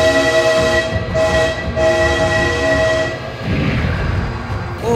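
A train in the video game BeamNG.Drive blasts a loud, sustained horn in long repeated blares while the train rumbles past close by, dominating the scene with no talk.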